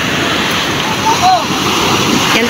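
Ocean waves on the open sea beside a fishing boat, a loud, continuous rushing wash of surf and wind close to the microphone, with a steady roar and no clear breaks.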